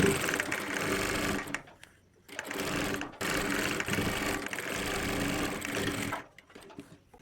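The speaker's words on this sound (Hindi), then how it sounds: "यहाँ से हमने सिलाई लगाना है" Sewing machine running steadily while stitching a kurta collar, close and fairly loud, with short pauses near the two-second, three-second and six-second marks before the motor picks up again.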